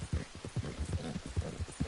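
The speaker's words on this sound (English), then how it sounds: "So now my horse just actually runs faster, not just longer." Horse galloping in the game Red Dead Redemption II, a rapid, regular drumming of hoofbeats thudding close and steady across the whole stretch.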